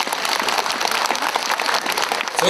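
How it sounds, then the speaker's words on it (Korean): Audience applause at the opening ceremony of the 12th World Korea Arirang Festival, a dense, continuous wash of clapping from a large crowd, steady and fairly loud for the whole stretch. "경계의 박수 한번 보내시기 바라겠습니다"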